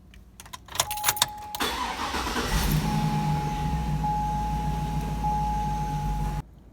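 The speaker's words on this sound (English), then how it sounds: "So go ahead and put your key in the ignition, see if them blue lights come on for you." Car keys jangle with a few sharp metallic clinks as a key goes into the ignition, then a car engine starts and settles into a steady, fairly loud idle with a thin electrical whine, no voices.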